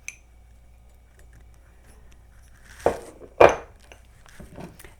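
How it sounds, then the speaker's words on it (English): A frying pan is set on the stove with two distinct metallic clanks close by in a quiet kitchen, followed by faint handling noises. "We're going to put our frying pan on to medium and add some butter."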